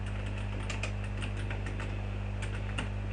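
Fingers tap steadily on a computer keyboard while a video title is entered, a quick run of light, close clicks over a constant low hum, with no talking.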